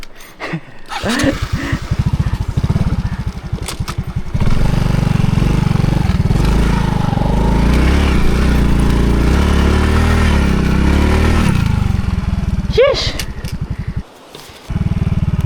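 A motorcycle engine starts and revs, settling into a loud, rough idle close by, with throttle blips and a brief drop near the end.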